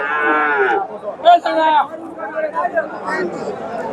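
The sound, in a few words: Friesian bulls mooing at cattle market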